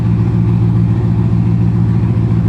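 Loud, deep exhaust rumble from a Chevrolet C7 Corvette with an aftermarket exhaust and its check engine light on, a steady heavy drone held close up with no talk.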